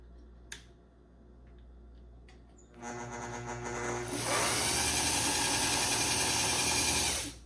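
A sewing machine winds a bobbin that has been filling unevenly. A couple of faint clicks come first, then the motor starts up and runs at a steady, close whir that rises to a louder, constant hum.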